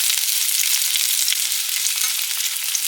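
Onion and jalapeno sauté in olive oil over lowered heat, giving a steady, close, even sizzle and crackle throughout with no talking.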